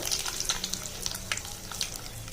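Curry leaves sizzling in hot oil for tomato kurma, a close, bright crackling fry with sharp pops scattered over a steady hiss.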